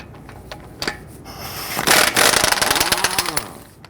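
Lug nuts come off an Infiniti G37x wheel, a rapid rattling mechanical buzz that builds midway and runs for about two seconds before easing off, with lighter clicks around it.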